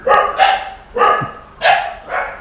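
A dog barks five times in a quick, uneven series, close and fairly loud, and nothing else is heard.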